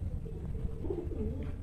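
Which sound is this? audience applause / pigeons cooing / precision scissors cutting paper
pigeons cooing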